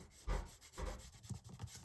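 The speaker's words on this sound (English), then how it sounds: "So I'm just dotting little bits and then going over and patting them, slightly rubbing" Soft pastel rubbed and patted onto paper to build clouds, giving faint, close scuffing strokes in a few short bursts with no talking.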